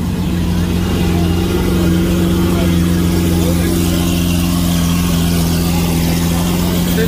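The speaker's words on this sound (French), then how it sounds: "Il y a l'Aventador SV là qui fait des bruits de malade" A Lamborghini Aventador SV engine idles with a deep, steady rumble just after starting on a street in Cannes, loud and constant throughout, with crowd noise around it.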